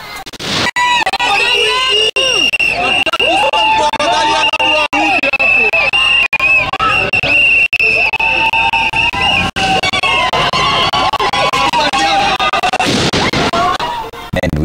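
A large crowd of county workers protests delayed salaries in Nairobi as police fire tear gas: loud, chaotic shouting and screaming close by, with sharp bangs and cracks cutting through the din.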